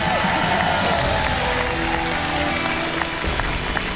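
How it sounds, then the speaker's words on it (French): Studio audience on a television game show applauds a 10,000-euro win, a loud, busy wash of clapping with cheering mixed in, continuous across the whole stretch, with voices talking over it. "applaudissements"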